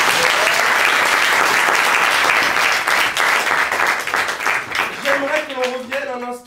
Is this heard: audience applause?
yes